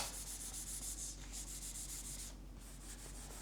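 A gaming mouse slides back and forth across a mouse pad in a steady series of soft, close, hissing rubbing strokes with a brief pause, with no other sound.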